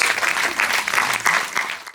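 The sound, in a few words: audience applause at film festival closing ceremony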